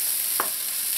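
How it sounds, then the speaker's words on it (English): Vegetables in a hot pan give a steady, close sizzle and frying hiss, with one brief scrape of a spoon stirring them partway through. "Give it a mix."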